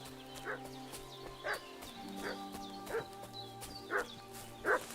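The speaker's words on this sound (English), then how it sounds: "What's that dog making such a fuss about?" A dog barks in Kingdom Come: Deliverance 2, six separate barks spaced about a second apart, faint and somewhat distant over a quiet ambient game background.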